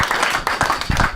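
A few people clapping in a brief burst at a camp wedding, a loose uneven patter of hands, close and fairly loud, with short gaps between the clusters of claps.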